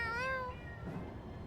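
A cat meows in Tales of Xillia 2, a single clear game meow with a gliding pitch lasting about half a second, followed by faint background game ambience.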